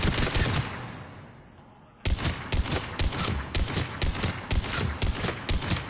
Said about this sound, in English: this weapon has amazing accuracy when fired slowly with the scope, and its grouping is still fantastic when fired quickly